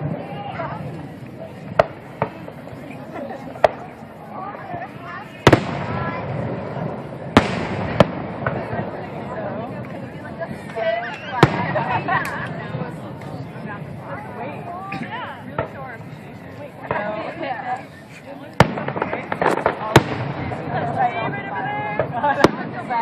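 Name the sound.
fireworks rockets exploding, 4th of July display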